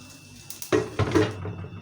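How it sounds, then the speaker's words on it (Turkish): A frying pan is lifted and handled in a home kitchen while chicken soup and fried food are being cooked, giving a couple of close metallic clanks and scrapes against the stovetop, with no talk. "Şimdi hemen alıyorum bu tavayı"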